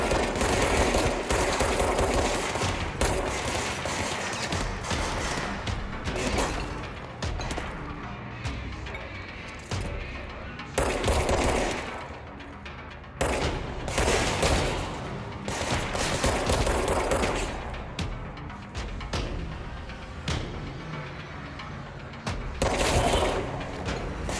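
An auto-reloading gun firing in the video game Control, heard as relentless rapid gunfire bursts and crashing impacts, loud and nearly unbroken with only brief dips between volleys.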